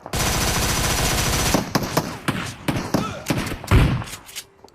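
Gunfire in the mobile battle royale game BGMI: a sustained rapid automatic burst, followed by several separate sharp single shots and thuds, loud and close, with faint talk underneath.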